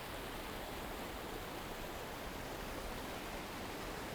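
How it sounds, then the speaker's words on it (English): A healthy, steadily flowing mountain river runs past a field of cherry blossoms in Japan, heard as an even, unbroken rush of water that stays faint and distant, with no voices. "right now I'm by a river that's not raging, but it's going"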